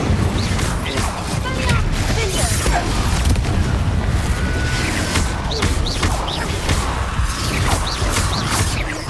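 The Incendio fire spell is cast during a busy Hogwarts Legacy duel, producing whooshing booms and crashes amid a constant clatter of combat effects, with voices shouting over the action.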